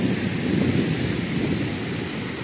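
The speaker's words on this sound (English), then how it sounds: "the waves are huge today" Large surf at high tide rolls up to a backyard property line, giving a broad, constant wash of breaking waves close by, mixed with wind buffeting the microphone and no voices.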